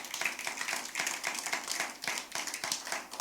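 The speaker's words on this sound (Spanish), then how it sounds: "Alguien dele un aplauso bien fuerte al Señor." A church congregation applauds, giving a loud round of hand clapping to the Lord during a sermon; steady, dense clapping with some distinct individual claps carries on throughout, fairly close and without talk.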